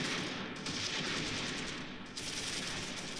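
Machine gun fire in the Close Combat 3 war game on the Russian Front, sustained bursts of gunfire around Pavlov's house, dense and steady with no talking over it.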